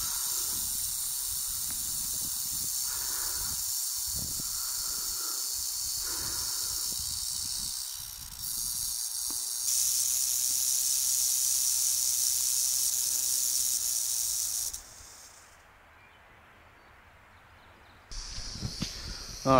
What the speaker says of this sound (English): as you can hear, we still got some snakes around us